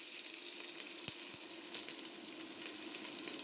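Sliced onion sizzles steadily in hot oil with dried red chilies, a constant bright hiss with a couple of faint clicks from a utensil, no talking.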